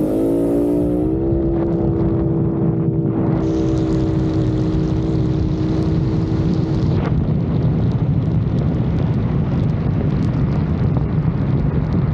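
A turbocharged Yamaha XMAX 400 scooter engine climbs in pitch as it revs up on an empty road, then roars steadily at high speed with heavy rumble and wind buffeting.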